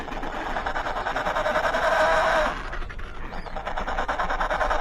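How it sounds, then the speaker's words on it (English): An Adélie penguin colony in Antarctica makes a dense, continuous wash of overlapping calls and chatter. It is loud and steady, eases slightly partway through, and no one talks. "this is the sound of an Adélie penguin colony, which Louise was studying for a summer in A"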